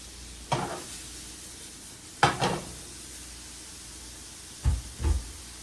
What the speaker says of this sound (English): in a non-stick skillet on medium-high heat, you want to now add in your shrimp